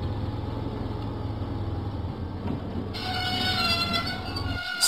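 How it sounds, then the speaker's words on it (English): Diesel engine train rolling along in a Thomas and Friends video game, a steady low mechanical rumble with rail rattle that brightens and grows slightly louder halfway through, with no talking. "Diesel set out for the steamworks."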